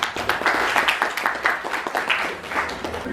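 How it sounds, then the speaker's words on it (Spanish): An auditorium audience at a political communication lecture gives a moderate round of applause, steady rhythmic clapping from many hands that holds for a few seconds at a middling distance. "Un aplauso para él,"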